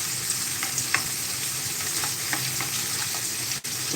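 Tomato added to a hot pan of cooking mung beans, a steady close sizzle and crackle of frying with occasional stirring scrapes throughout.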